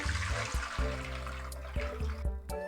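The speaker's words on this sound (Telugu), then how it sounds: "ఇప్పుడు వీటిని మనం వడపోసేసుకోవాలి పోసేసుకుందాం" Water from soaked soya chunks pours off steadily as they are strained, a continuous splashing gush with a few brief gurgles, close and fairly loud.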